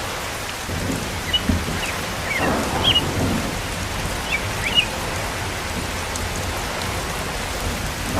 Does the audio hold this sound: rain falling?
yes